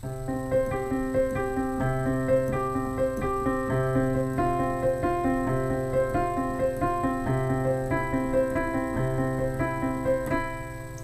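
Sustained piano chords played steadily with a bass line beneath, changing every couple of seconds, close and clear with no voices.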